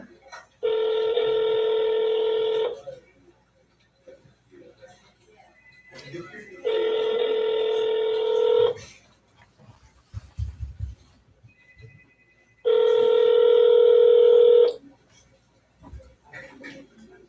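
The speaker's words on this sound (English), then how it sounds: "Let me dial this number again." A telephone sounds three long, steady electronic tones, each about two seconds, separated by pauses filled with faint line noise, while a number is being called.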